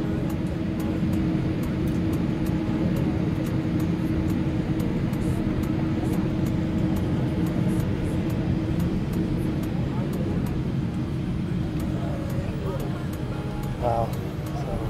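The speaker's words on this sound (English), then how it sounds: "Plane is moving." A passenger airplane taxiing along the runway before liftoff, heard from inside the cabin as a steady, loud low engine rumble and hum with soft rattles and faint voices mixed in.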